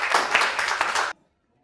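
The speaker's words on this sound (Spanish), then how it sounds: "Un aplauso." Applause from a classroom full of students bursts out loudly for about a second, then cuts off abruptly into silence.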